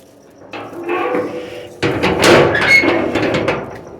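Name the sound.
door being closed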